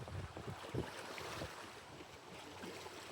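Gusty wind roars across open water beside a small boat, with rushing wave wash and buffeting microphone noise, a steady broadband blast with a few sharper low thumps.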